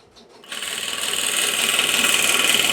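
A sewing machine stitching an elastic band onto fabric ruffles starts up after a brief quiet moment, then runs in a steady, rapid, buzzing whir with fast mechanical ticking, close and loud, with no talking.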